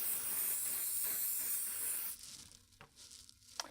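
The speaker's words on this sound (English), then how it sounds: "take my hairspray, and I'm really going to spray it like crazy" A long, steady hiss of hairspray blasting from an aerosol can for about two seconds onto hair, then stopping, followed by a few faint handling noises.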